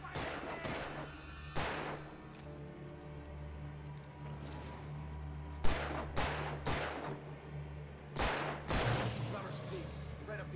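Gunshots crack in Alan Wake Remastered, a handful of sharp separate blasts spaced irregularly over a low ambient hum, fairly loud and close, with a voice shouting in between.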